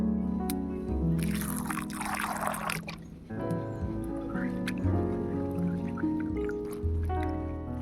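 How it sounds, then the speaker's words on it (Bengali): Green peas are rinsed in water in a home kitchen while cabbage is prepared. The water sloshes and pours steadily, with a stronger gush early on and soft dripping after it. "মটরশুঁটিটা আমি ধুয়ে নিচ্ছি"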